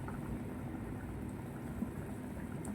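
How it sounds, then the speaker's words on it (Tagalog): Faint, low bubbling of chicken tinola soup simmering in a pot, a soft continuous gurgle with occasional small pops. "Kumukulo na siya."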